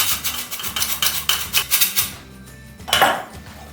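A spoon or whisk scraping and clinking against a bowl while mixing flour, cocoa, baking powder and vanilla, in quick rhythmic strokes that stop briefly before one more scrape.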